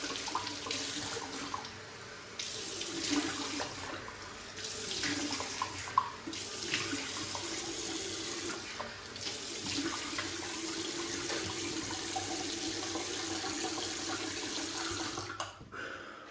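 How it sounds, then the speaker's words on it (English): Tap water runs steadily into a sink while a face is washed off after shaving, a continuous close rush with slight shifts in the splashing that cuts off abruptly near the end. "Let's wash off the face and we'll get into the post."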